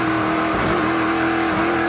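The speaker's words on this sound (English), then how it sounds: "You can hear JF burp the throttle a few times." A NASCAR Pinty's Series race car at the 2017 Luxuur 300 holds a steady, loud engine drone, with a short dip and surge in the throttle partway through before it settles back to a constant roar.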